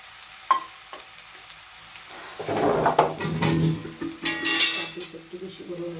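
Chicken sizzling in hot ghee in a pan while it is stirred, for chicken potato chops, with scraping and clinking of a utensil against the pan, close and moderately loud, growing busier midway.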